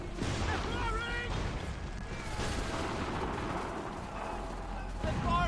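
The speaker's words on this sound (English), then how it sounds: "They're firing. Take cover. Incoming fire." Enemy gunfire in Assassin's Creed 3 crackles and booms in a dense, continuous battle din of shots and blasts, with shouted voices cutting in over the fighting.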